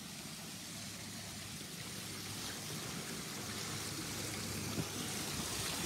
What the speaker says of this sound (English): That one little lever stopping the water flowing over here.